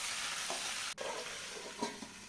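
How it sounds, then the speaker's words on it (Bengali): Potatoes and taro fry in a paste of onion, ginger and garlic, giving a quiet, close sizzle with stirring scrapes and one abrupt break partway through. "তা ভেজে নিয়ে এর মধ্যে আলু আর কচুগুলোকে কষিয়ে নিচ্ছি।"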